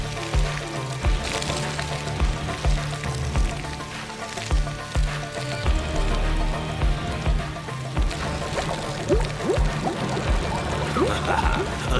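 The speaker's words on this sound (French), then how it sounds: "mettez-moi cette pompe en marche" A water pump runs at full flow, with gushing, splashing water over a rhythmic low thumping and bubbling churn, steady and close for the whole stretch.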